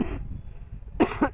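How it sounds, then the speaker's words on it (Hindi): Two or three short, husky coughs come from one person at close range, with a brief quiet gap between them. "खांसी उखड़ गया"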